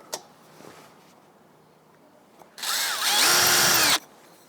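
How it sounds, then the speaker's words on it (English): Power drill boring small pilot holes into the underside of a campervan worktop: a single loud, whining burst lasting about a second and a half, close by, after a quiet stretch with a few faint knocks. "drill again so as to put little pre-holes in the bottom of the worktop"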